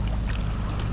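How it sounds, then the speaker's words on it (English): Low rumble of the Canada Steamship Lines freighter Baie Comeau sailing down a river, a steady deep engine drone with water and faint wind noise, heard for under a second without any talk. "here's a video of the freighter Baie Comeau"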